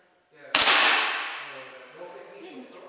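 A single sharp crack of an air rifle shot at a sport shooting range with competition targets, loud and close, trailing off in a short decaying ring and leaving faint background noise.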